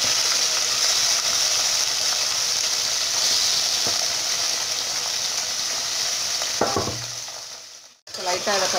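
Chicken liver frying in hot oil with chillies, a steady loud sizzle throughout, broken near the end by stirring scrapes and a brief drop in the hiss before it resumes.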